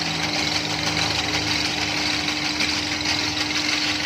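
A motor drives a manual noodle machine converted to run automatically, a steady droning hum with a low rhythmic rumble and vibration, constant and close throughout.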